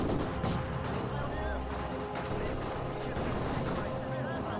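Machine gun fire crackles in a Company of Heroes 2 Spearhead Mod battle, an MG42 and Maxim guns shooting in dense continuous bursts amid a loud wartime din, with a voice talking over it.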